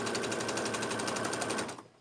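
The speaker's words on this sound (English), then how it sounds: "pin it out, and start stitching" A sewing machine stitches the inside pocket of a bag in a fast, steady mechanical chatter that runs close and continuous before stopping abruptly near the end.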